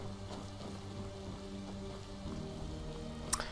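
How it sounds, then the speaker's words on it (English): Rain falls in Skyrim as a steady soft hiss of drops on surfaces, faint and even throughout, with a brief sharp tick near the end and no talking. "oh, it's starting to rain"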